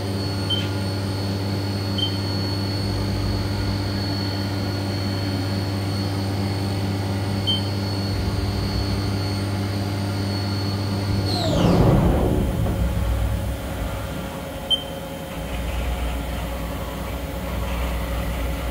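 A Haas Mini Mill spindle runs at maximum speed with a steady, loud hum and high whine, then the pitch sweeps down sharply as it slows to a lower, steadier drone.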